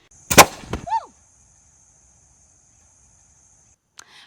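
Homemade cannon fired outdoors in the Philippines, a single sharp loud blast with a short rumbling tail, followed by a long steady high electronic whine and near silence, ending with a faint click.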